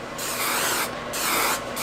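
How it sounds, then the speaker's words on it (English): Hairspray sprayed onto fabric ribbon wrapped around sticks for curling, heard as three close, steady aerosol hisses in quick succession. "we are gonna just go a little bit of hairspray."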